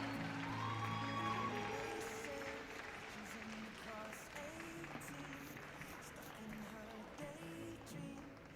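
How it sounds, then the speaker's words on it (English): Audience clapping and cheering at an international junior dog handling competition, a broad steady wash of applause that swells at the start and settles under a crowd murmur with some talk. "let's give them a big round of applause as they go"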